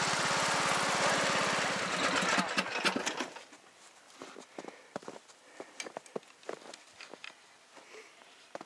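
A riding lawn mower in snow during a Canadian January runs loud and rough up close for about three seconds, then shuts off, leaving scattered clicks, knocks and crunching footsteps.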